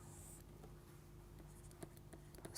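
A pen or chalk writes out a physics equation during a lecture on vibrations of solids, making faint, sparse taps and scratches over a quiet, humming room background.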